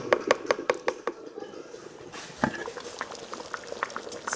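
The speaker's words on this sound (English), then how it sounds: "I'm going to cover the pot and let it simmer." Bitter leaf soup bubbles in a covered pot on the stove, quiet close plopping and burbling, with a run of quick taps early on and a brief knock partway through.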